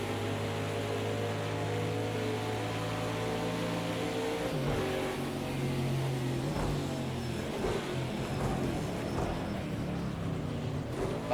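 Race cars roar past on the Road America circuit during a sportscar weekend, engines droning loud and steady with rising and falling pitch as they pass, layered over a continuous engine hum.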